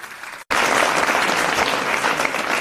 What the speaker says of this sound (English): I think you can all clap for yourself.